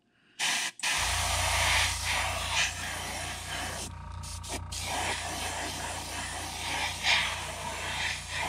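An airbrush sprays paint onto a crankbait lure for an orange craw pattern, producing a steady close hiss that runs nearly the whole time, broken by brief pauses near the start and middle.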